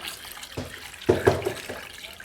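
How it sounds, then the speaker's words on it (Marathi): Idli ingredients are washed gently by hand in water, giving a few soft splashes and swishes close by at a low volume with short pauses between them. "दोन ते तीन पाण्यांना धुवून घ्यायचं आहे"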